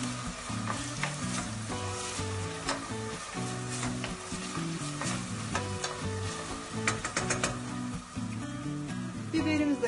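Chopped red kapya pepper sautés in a pan for a stew of okra and chickpeas. It makes a continuous close sizzle with occasional crackles and stirring taps, and a faint low tone sits underneath.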